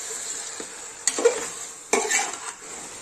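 Marinated chicken stirred in a pot with onion and tomato, sizzling quietly while a spoon scrapes and knocks against the metal in two or three distinct strokes, with no voices.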